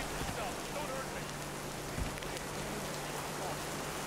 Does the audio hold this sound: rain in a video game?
yes